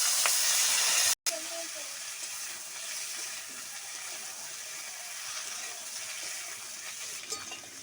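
Chopped tomatoes hit a hot pan of moringa drumsticks and sizzle with a loud, steady hiss, broken by a brief dropout near the start, then continuing close and even, with a voice faintly present.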